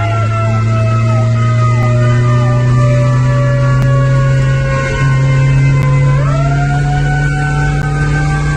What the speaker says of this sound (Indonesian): Terlihat mobil pemadam kebakaran dengan sirina menyala kesulitan melintas